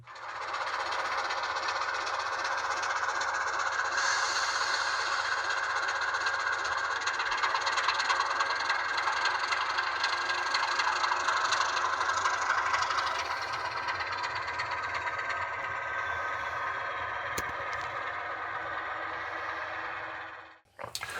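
A model Class 26 locomotive, number 26026, runs on a layout with a steady, continuous motor whirr and rolling hum that holds evenly for about twenty seconds before cutting off at the end.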